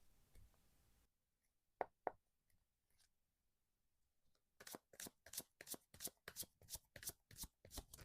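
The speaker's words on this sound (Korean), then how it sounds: "두 장의 타로 카드로 볼게요." Tarot cards being shuffled: a few soft taps and knocks at first, then a steady run of crisp riffling bursts at close range, quiet overall with no talk.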